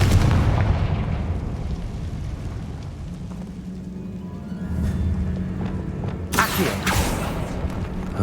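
Confringo fire spell in Hogwarts Legacy cast inside a tomb: a heavy booming blast at the start that rolls off into a long rumbling decay, followed by sharp crackling bursts later on.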